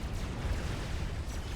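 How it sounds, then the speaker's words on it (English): Commander units exploding in a Supreme Commander match, a continuous heavy rumble of booms and blasts with dense low-end roar throughout. "You lost them to comm explosions."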